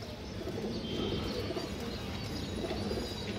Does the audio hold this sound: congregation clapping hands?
no